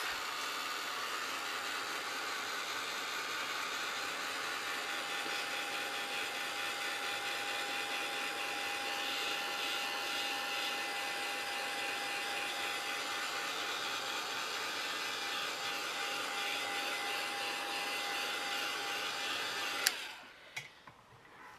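Hair dryer blowing steadily to dry a steampunk craft tag, a constant loud whooshing drone that runs unbroken for about twenty seconds before clicking off with a short clatter.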